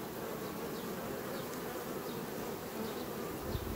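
A dense, steady hum of many calm honeybees buzzing close by at the hive, a continuous drone with no talking.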